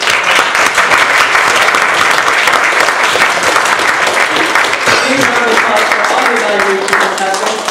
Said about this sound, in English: And while they're clapping, the senior contestants, please line up on my left.